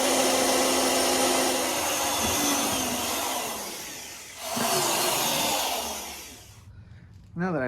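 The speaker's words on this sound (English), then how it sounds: "Now that I finally got the holes drilled" A power drill boring mounting holes for Viking saddlebags on a Harley Sportster, a loud steady whine that dips as the bit bites, pauses, then starts again close by.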